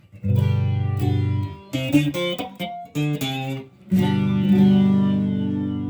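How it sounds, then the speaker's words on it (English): Electric guitar played through a flanger effects pedal, chords and single notes taking on a sweeping, glassy, whooshing shimmer, loud and up close with short pauses between phrases. "Flanger, which is kind of a shallower, I don't know, glassier sound."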